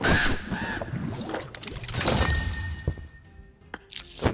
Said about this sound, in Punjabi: ਕਾਂ ਕਾਂ ਦੇ ਬੋਲੀ ਜਾਂਦੇ ਨੇ ਵਿੱਚ ਵਿੱਚ